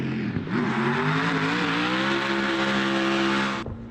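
Ken Block's 1,400-horsepower twin-turbo methanol-fuelled car engine revs hard and loud, its pitch climbing through a sustained roar of about three seconds before cutting off abruptly.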